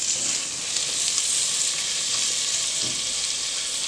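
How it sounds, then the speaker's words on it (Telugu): Beans and potatoes fry in a pan, a steady, fairly loud hiss and sizzle running unbroken throughout with faint stirring, no voices. "అండ్ కొద్దిగా బీన్స్ అండ్ కొన్ని ఆలు, ఇవన్నీ మనం మంచి మిక్స్ ఇచ్చి ఒక 5 మినిట్స్ కొంచెం ఫ్రై చేసుకుందాము"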